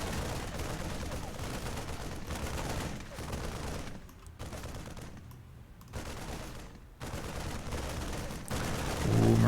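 Marines and Reapers fire in a StarCraft 2 Terran-versus-Terran match: dense, rattling gunfire runs almost nonstop, with brief lulls and a louder swell at the end.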